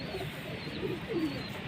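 Several pigeons from a long-kept fancier's loft of rare paired birds coo softly in a short, steady murmur, a few low rolling calls rising out of a faint background of other birds.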